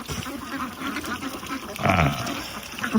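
A large flock of farm ducks crowds through a doorway together, their quacking rising and falling against a steady watery background noise and growing briefly louder near the middle.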